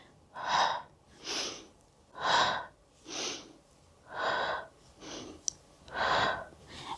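Deep, steady breaths during a gentle beginner ab and hip workout, with seven loud close inhales and exhales in a slow, even rhythm and no talk.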